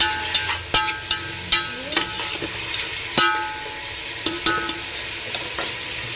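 Onions fry in a pan for chicken biryani: a constant close sizzle punctuated by repeated sharp scrapes and clacks of a spoon stirring against the pan.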